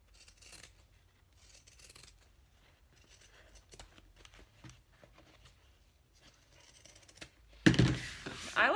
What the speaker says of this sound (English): we're just gonna trim these seam allowances